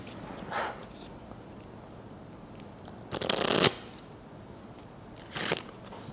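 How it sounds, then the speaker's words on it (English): A deck of cards is shuffled by hand in three quick riffles, short crisp bursts of card flutter spaced a couple of seconds apart against a quiet room. "Can I shuffle them, or are they supposed to?"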